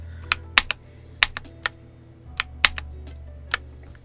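Keystrokes on a pink transparent KiiBoom Phantom68 magnetic keyboard, a dozen or so crisp clacks in an uneven, unhurried rhythm, close and clear over a faint low hum.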